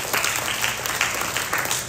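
A church congregation claps together, a brief burst of dense, fairly loud applause with soft crowd murmur beneath it.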